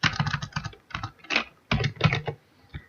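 Computer keyboard typing in quick bursts of clicky keystrokes separated by short pauses, close and clear with no voices.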